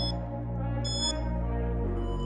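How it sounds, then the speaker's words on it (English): A workout interval timer beeps during a bodyweight exercise session, sounding short high electronic tones over a steady humming background. "So I'm going to set my timer now."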